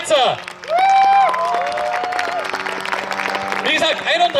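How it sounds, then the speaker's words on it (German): Crowd applause and cheering for aerobatic pilot Alexander Balzer at the Aerial GP Austria air show, heard under loud voices and whistling tones that dominate the mix. "Applaus für Alexander Balzer."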